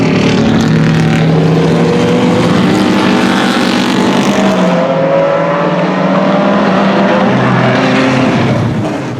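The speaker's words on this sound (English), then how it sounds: "check out some vintage race cars, whooping on the track" Vintage race cars roar around the track at Indianapolis Motor Speedway, loud and close, engines revving hard with a pitch that rises then sweeps down as cars pass, no voices.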